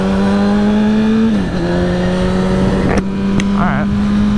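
Honda CBR1000RR motorcycle accelerating on a highway, its engine a loud, steady droning hum that dips briefly at a shift before climbing again, with wind rush throughout.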